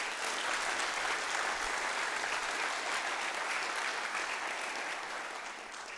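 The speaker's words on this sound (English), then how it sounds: "Another round of applause, please, for our presenters." Sustained audience applause at a game developer conference honoring presenters, dense and steady throughout, fading slightly toward the end with no talk over it.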